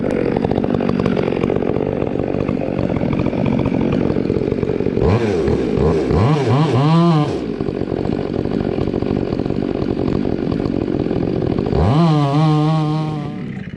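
A chainsaw cuts into a tree during rigging work, its engine droning steadily and nearby, then revving up sharply twice as it bites into the wood.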